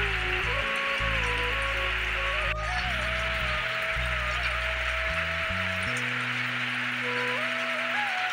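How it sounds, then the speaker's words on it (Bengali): Steady rain falls on a village home in Bengal, a constant close hiss of drops that runs through the whole stretch beneath a tonal musical backing. "এখন কেমন বৃষ্টি পড়ছে দেখো"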